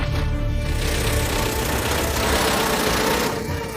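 An abandoned military truck found in a forest runs as its engine warms up, a steady loud rumble with a rough knocking undertone that continues without a break.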